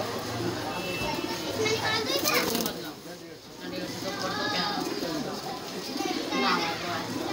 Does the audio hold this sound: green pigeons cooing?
yes